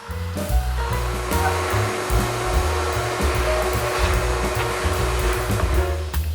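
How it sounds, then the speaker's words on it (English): A wood router cuts a shallow recess into a nightstand top, a loud, steady high-pitched motor whine with rough cutting noise, close by and uninterrupted. "I'm doing it in 2 passes with the router"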